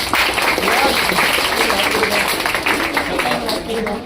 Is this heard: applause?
yes